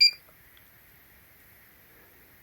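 A Regetek BBQ grill thermometer gives one short, bright electronic beep as its timer starts, followed by near silence and a faint lingering tone.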